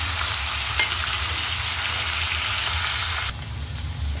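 Chicken meat frying in a pan, giving a continuous, even hissing sizzle close by, with a small knock near the start and the sizzle dropping slightly in level near the end, no talking.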